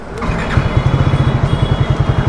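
A Triumph Speed 400 motorcycle engine starting after servicing, a short crank catching into a loud, close, rapidly pulsing idle.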